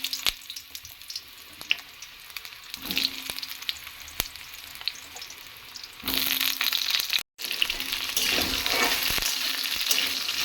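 Dried red chilli, whole cumin and then chopped ridge gourd going into hot oil for moong dal: a quieter sizzle with stirring clicks gives way to a sudden louder, fuller frying hiss about six seconds in, briefly cutting out before resuming.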